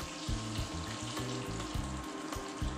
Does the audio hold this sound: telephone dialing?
no